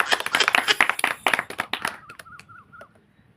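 Children in a village tuition classroom clap their hands in a quick burst of sharp, close claps that thin out, followed by a few brief chirping tones as the clapping fades.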